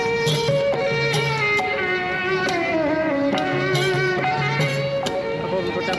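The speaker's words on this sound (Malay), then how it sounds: "ini adalah muzik tradisional Kemboja versi sedih, bunyi macam sedih macam tu" Traditional Cambodian music in a slow, mournful style plays steadily at a street food market, with sustained melodic lines and soft plucked or struck accents over a constant background of crowd ambience.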